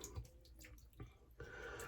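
Water is added to a badger or boar shaving brush, an olivewood Saponificio Varesino / Shaving Cadre limited-edition brush: faint, brief splashes and drips in a few short bursts, close by.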